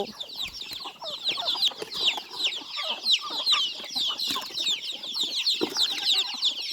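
Chickens and ducks being fed by a grandmother at dusk cluck and chatter in a dense, continuous flock chorus, close by and steady, with occasional soft thumps and flutters underneath.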